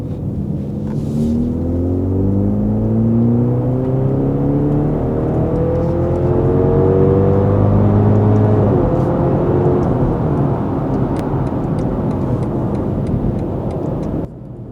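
A BMW X3 30e fitted with a DCE catback exhaust pulls hard on the highway, its engine note climbing through rising gear sweeps, a loud steady whirring roar that holds near and continuous with no talking.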